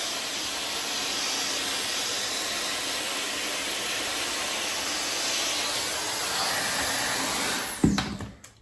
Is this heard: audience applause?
no